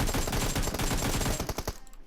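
Gunfire in the mobile battle-royale game PUBG Mobile: loud, rapid bursts of shots crowd close together, then cut off abruptly into near quiet.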